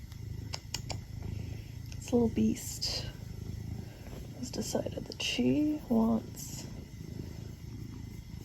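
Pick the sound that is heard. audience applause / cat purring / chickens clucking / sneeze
cat purring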